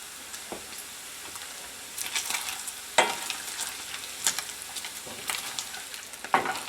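Bacon frying in a pan on a flame, rendering down until crispy, with a steady faint sizzle broken by a few louder clatters and stirring scrapes, no talking.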